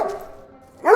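A dog barks briefly in a film scene, with a short yip at the start and a louder bark at the end of a quick, close moment, with no talk over it.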